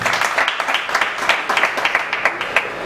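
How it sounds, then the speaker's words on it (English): An audience at an election manifesto gathering applauds steadily, a dense crowd of hand claps with sharp individual claps standing out, loud and continuous throughout. "Please, a round of applause for yourselves."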